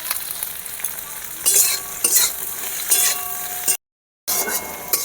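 Onion and capsicum frying in a kadai for chicken patiala, a steady sizzle with a spatula stirring and clinking against the pan in several short bursts, close and alone, broken by a brief silence.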